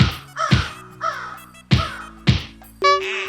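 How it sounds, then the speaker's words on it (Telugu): Crow perched in a tree near the Sirisilla bus stand, giving a series of loud harsh caws, about six calls spaced roughly half a second apart, close and clear with faint background hum. "ఈ సిరిసిల్ల బస్ స్టాండ్ కాడున్న చెట్టు మీద ఉన్న కాకి మాత్రం అట్లకెళ్ళి పోతున్న మొగోళ్ళనే టార్గెట్"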